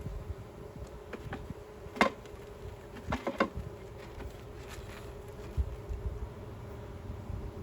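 Honey bees buzzing at an open hive during an inspection, a steady low hum with a few sharp clicks and knocks of hive equipment over it, and no voices.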